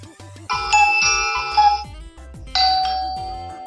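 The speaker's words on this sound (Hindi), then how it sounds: "ये घंटी की आवाज है।" Two electronic doorbell chimes ring out clearly, each a bright ding-dong with a lingering tone, separated by a short pause and accompanied by soft background clicks.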